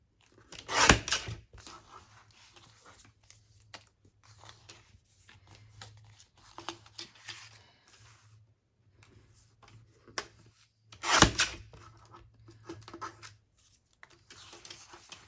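A small tabletop paper trimmer slices through a Christmas journal card, two short crisp cutting strokes separated by quieter rustling and handling of paper.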